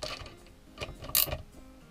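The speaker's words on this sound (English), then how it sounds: "I can put this wrench on there, this wrench on here, cinch them down" Two wrenches cinch down a regular nut on a DIY floating and sinking camera rig, producing close, irregular metallic ticks and ratcheting clicks with a brighter clink near the end.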